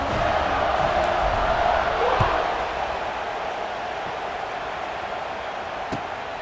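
Stadium crowd roaring in a college football video game during a kickoff after a touchdown, a broad steady cheer that swells then eases slightly, with faint commentary underneath.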